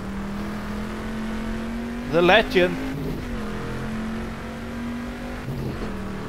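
A Corvette C3 engine drones at steady pitch while racing around 1970s Sebring in GTR2, rising and falling slightly, with a brief burst of speech over it.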